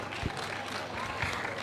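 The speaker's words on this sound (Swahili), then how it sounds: "Naomba tumpigie makofi mengi sana" Audience applause at a public ceremony honouring Tanzania's President: a steady, fairly faint wash of many hands clapping, with no clear voices over it.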